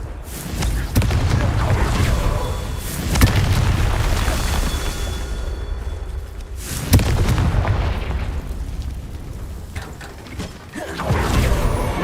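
In Hogwarts Legacy, a Confringo blasting spell fires, producing booming explosive impacts with sharp bursts and rumbling decay, amid mechanical clanks and game effects, loud and close.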